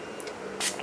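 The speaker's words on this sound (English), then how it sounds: "This is just a fixing spray." A makeup fixing spray mists onto a face after makeup application, one brief close hiss after a couple of faint earlier puffs, without speech.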